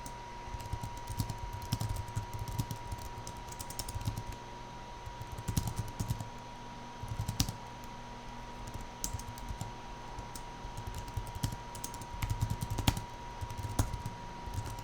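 Typing on a computer keyboard, continuous irregular key clicks in quick bursts with short pauses, close but fairly quiet over a low steady hum.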